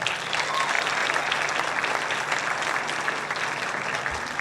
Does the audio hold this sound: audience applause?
yes